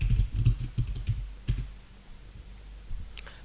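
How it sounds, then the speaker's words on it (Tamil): Someone types on a computer keyboard, a quick run of close, crisp key clicks that slows into a few scattered taps over low background hum. "ஸோ இங்கே வந்து ஹேர் சீரம்னு நான் டைப் பண்ணுறேன்"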